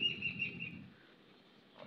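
Small birds chirp faintly in short high twitters outdoors in the morning while they peck at namkeen snacks scattered for them, the calls fading out after a second.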